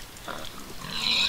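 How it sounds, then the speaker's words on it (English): A pig in a survival video game gives a short, soft, grunting oink, fairly quiet and heard on its own. "Pig."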